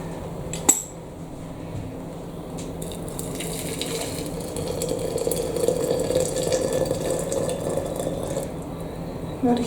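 Freshly boiled water is poured from a kettle onto corn silk in a cup, a steady close trickle and gurgle lasting several seconds, with a clink near the start.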